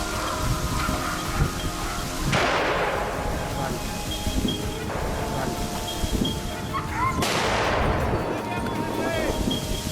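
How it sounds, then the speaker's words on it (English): Two loud gunshots fired at wild boars in a forested field, each a sharp crack followed by a long rolling echo, spaced several seconds apart over a constant outdoor background. "Gunshots rang out one after another from my teammates"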